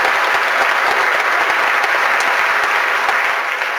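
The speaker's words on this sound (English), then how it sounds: "the school board and Superintendent Bennie should have a round of applause for bringing this information" A school audience at a fifth grade band concert applauds, dense sustained clapping that is loud and close, continuing evenly from start to finish without speech.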